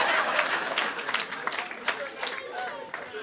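An audience applauds for a woman named Kanyana at a comedy and music show, scattered moderate clapping with crowd noise and a voice talking over it.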